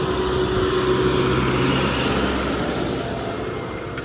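Tractor pulling a disc harrow through a field, a loud, continuous engine drone with a steady low rumble and broad mechanical noise throughout.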